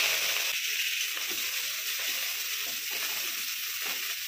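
Curry leaves, cumin and mustard seeds sizzling in hot oil, a dense, steady hiss with faint crackles and stirring underneath, no voices.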